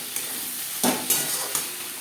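Onion, tomato, spices and salt are stirred in a frying pan under a constant sizzle, with three sharp spatula scrapes standing out close by.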